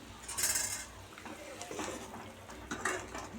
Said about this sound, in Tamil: வெண்டைக்காய் சேர்த்துட்டு நல்லா கலந்து விட்டுக்கலாம்